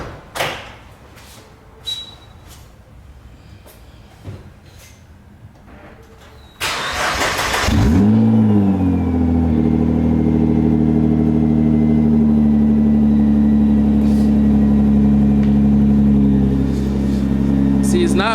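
A Nissan GT-R R35 cold-starts after a few quiet knocks and clicks: a sharp starter burst, then a loud, steady high idle that holds close and strong to the end, with no clear revving.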